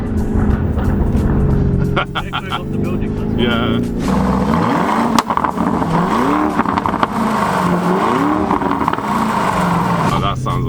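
A Lamborghini Urus engine and exhaust sound from inside the cabin while driving, rising and falling through revs and gear changes, loud and close, with people talking over it.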